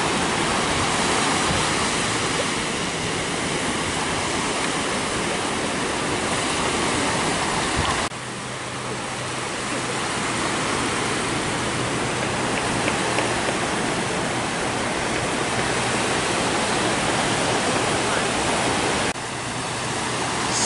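Surf breaking steadily at a busy surfing beach in Kamakura, Japan, with small waves producing a continuous loud wash of surging water and no voices.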